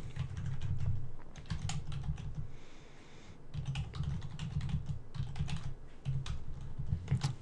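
Rapid, steady keystrokes on a computer keyboard as text is typed into a text file, close and clear, with a brief pause partway through before the typing resumes.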